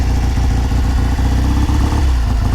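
A 1969 Triumph T120R motorcycle engine runs close and loud just after a kick start, with a lumpy, pulsing idle and slight uneven rhythm.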